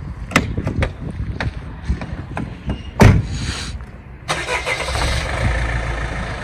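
A car engine cranks and catches, then keeps running. It follows several sharp knocks and handling noises, with a loud burst near the middle as it starts.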